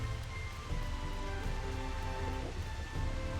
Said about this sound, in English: I feel like the rain sound is different here.